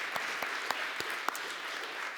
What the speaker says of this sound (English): I'd like to give them a quick round of applause